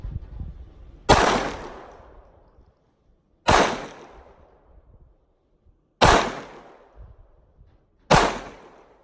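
A Glock 44 pistol fires Federal 38 grain .22LR rounds as four sharp, loud shots spaced a few seconds apart, each followed by a ringing decay, with no talking.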